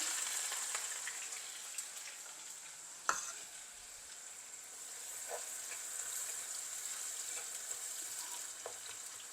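A large onion frying in oil for ladies finger sambol makes a quiet, even sizzle with faint crackles and a sharp clink partway through.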